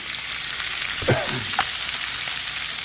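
Bison short ribs, salted and peppered with granulated garlic, browning in a deep cast iron pan give off a loud, steady, broadband sizzle, with a couple of brief scraping sounds partway through.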